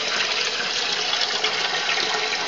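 A Canadian-made Simplicity twin tub washer fills with tap water under strong pressure, a loud, steady hissing rush of water pouring into the tub without pause.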